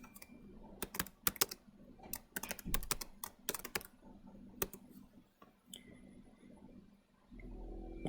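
Computer keyboard typing in bursts of crisp key clicks with short pauses, fairly quiet and close, no talking, ending in a steadier low hum.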